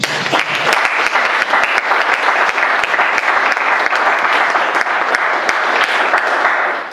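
A church congregation applauds during a sermon, steady loud clapping from many hands filling the whole stretch without a break.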